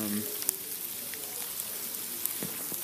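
Heavy sleet falling outdoors, a dense hiss of pellets with scattered ticks and taps, steady and moderately loud.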